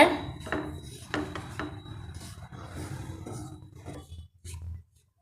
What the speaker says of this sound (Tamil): இதில் கோதுமை மாவு சேர்த்துடலாம் நாம் இதை லேசாக வறுத்துக்கலாங்க